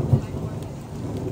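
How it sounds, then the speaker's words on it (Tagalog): Light rain drizzles steadily at a car-camping site beside a ground tent and tarp at dawn, a soft, continuous patter with a low rumble underneath and no talking. "Madilim pa ang langit, umaambon pa ng konti."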